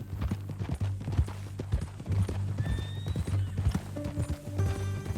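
Horse hooves clip-clop steadily in Red Dead Redemption 2, with a neigh and whinny rising over the rhythmic steps near the middle and more tonal sounds toward the end, all close and moderately loud.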